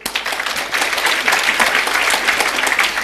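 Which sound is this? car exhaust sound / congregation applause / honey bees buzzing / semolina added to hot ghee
congregation applause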